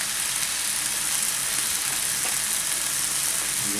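Soy sauce hits a pan of chicken or pork chow mein, raising a loud, continuous sizzle and hiss of frying noodles from start to finish.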